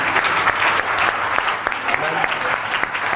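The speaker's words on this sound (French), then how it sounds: "Acclamons encore l'archevêque." A church congregation applauds the archbishop with steady, dense clapping filling the room throughout, and a voice speaking over it.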